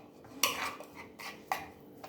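A spoon clinks and scrapes against a bowl while masala and hung curd marinade are stirred together, giving a few close, sharp taps between softer, wet mixing sounds.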